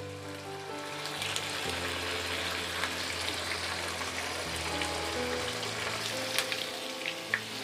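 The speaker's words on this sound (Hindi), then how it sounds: "देखिए यहाँ हम पनीर भी फ्राई कर रहे हैं एक साइड।" Paneer frying in a pan beside a pot, a soft continuous sizzle with a faint low hum underneath and a few light clicks and taps, steady and fairly quiet.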